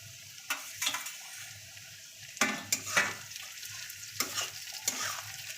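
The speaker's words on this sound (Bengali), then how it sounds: "সবগুলো একসঙ্গে ভালো করে আমরা মিশিয়ে ভেজে নেব।" Cabbage, fish head and tomato fry in a pan under a soft continuous sizzle, broken by several sharp spatula scrapes and stirs at irregular intervals.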